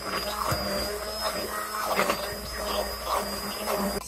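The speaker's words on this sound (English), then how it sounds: "just blend it with my immersion blender and just make more of a silky smooth pudding" An immersion blender whirs steadily while blending egg pudding smooth in a bowl. The motor hum is close and continuous, with slight wavering as the blade works through the mixture.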